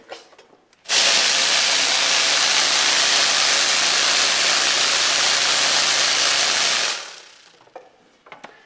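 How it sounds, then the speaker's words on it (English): A large tumbling machine, like an oversized rock tumbler, runs in a woodworking shop with water and dish soap inside. It switches on abruptly with a loud, steady churning roar that holds for about six seconds, then cuts off and fades away. "Basically a hobby rock tumbler on steroids."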